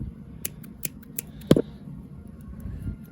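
Scissors snip fabric for a piggy plush, a few quick close cuts with one louder crisp snap in the middle, otherwise quiet.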